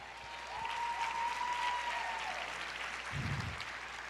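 A church congregation applauds the Lord during a sermon: a broad, steady wash of many hands clapping, heard at a distance and fairly quiet, with a low thump near the end.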